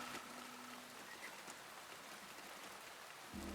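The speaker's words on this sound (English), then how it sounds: "watches the rain fall into the courtyard" Steady rain falling into a courtyard in the Shadow of the Road game: a faint, even hiss of rainfall throughout, with a soft low tone entering near the end and no voices.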